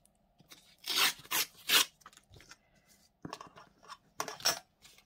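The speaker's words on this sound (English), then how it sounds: "I'm going to just move this to the side a minute so that I can tear this out" A page from a book is torn out in several short ripping bursts, close and crisp, separated by quiet pauses, with softer paper rustles between the louder tears.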